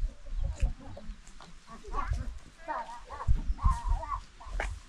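A flock of large farmyard chickens clucks in irregular bursts close by, with some quieter rustling between calls.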